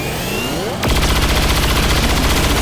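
Weapon fire loaded with blue screen rounds in XCOM, a quieter lead-in cut by a sudden loud blast, then a sustained heavy roar of shooting that continues to the end with no talk.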